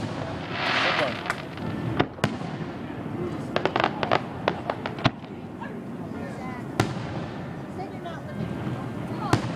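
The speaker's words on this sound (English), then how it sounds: "Bring on those fireworks!" Fireworks crackle and bang over a steady outdoor crowd murmur at Greenwood Lake, New York, with many sharp pops scattered irregularly and a few louder booms standing out.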